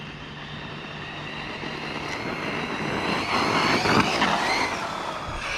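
Team Corally Shogun XP 6S RC truggy running at about two-thirds throttle, its electric motor whining steadily and rising in pitch as it builds speed, heard at moderate distance over outdoor background.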